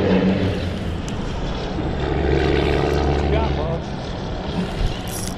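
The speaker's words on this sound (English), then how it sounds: "Oh, might be a drone." A small drone flies overhead during a saltwater fishing trip, giving off a steady propeller hum that holds fairly loud throughout, with other outdoor noise underneath.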